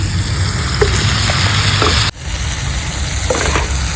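Mushrooms sautéing in a pan with spices, a loud close dense sizzle with a few light stirring clicks and a short dip midway, no talk.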